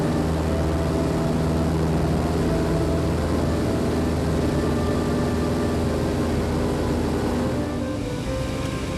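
Super Cub bush plane climbing out flat in ground effect after takeoff over trees, a steady loud engine drone with broadband rush continuous throughout, easing slightly toward the end.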